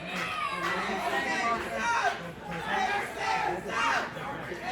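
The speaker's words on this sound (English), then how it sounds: "Crowd getting on Mason, chanting Mason sucks" A wrestling video game crowd chants and jeers at a wrestler in a steady, rolling wave of massed voices, loud and continuous throughout the arena.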